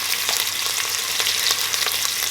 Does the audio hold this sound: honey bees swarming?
no